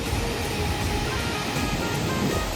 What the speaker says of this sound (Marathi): चला आता तुम्ही पण मस्तपैकी लाटांचा आनंद घ्या